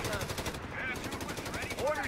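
Rapid automatic gunfire in the video game Company of Heroes 3, fast repeated bursts throughout, with faint voice-like sounds mixed in.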